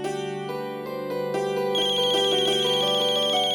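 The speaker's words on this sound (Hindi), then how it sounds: "अक्षरा का फोन है।" A phone ringtone plays a bright repeating electronic melody, loud and close, steady for a few seconds with no talking over it.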